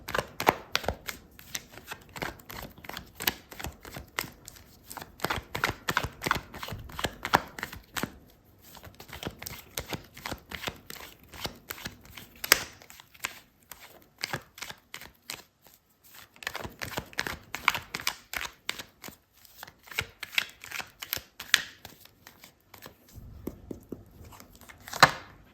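Close, crisp riffling and flicking of a tarot card deck being shuffled, long bursts of rapid snaps broken by brief pauses, with no talk.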